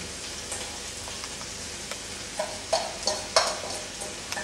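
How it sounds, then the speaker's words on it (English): Brussels sprouts sautéing in melted butter in a pan, a soft continuous sizzle punctuated by several sharper crackles and stirring scrapes toward the end, close and fairly quiet. "I'm going to saute these off in this lovely, wonderful melted butter"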